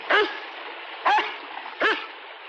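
Three sharp dog barks spaced about a second apart, fairly close, with running water or a stream murmuring in the background.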